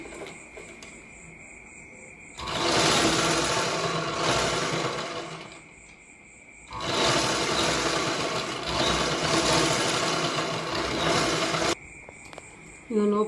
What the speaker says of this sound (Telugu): ఇక లోపల వైపు కూడా ఓవర్లాక్ చేస్తున్నా.